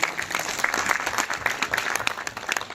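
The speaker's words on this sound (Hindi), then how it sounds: "जोरदार तालियों के साथ।" Audience applause at a memorial lecture in Meerut, a steady crowd of clapping hands filling the hall at moderate loudness with no voices over it.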